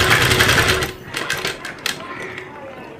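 A sewing machine runs in a dense, rapid burst for about a second while stitching a kurta placket strip, then stops. Quieter handling sounds and a voice follow.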